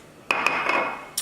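Eggs cracked against the edge of a wok for fried rice: a few sharp, bright taps close by, spaced a fraction of a second apart, with a short clattering ring after them and another crack at the end.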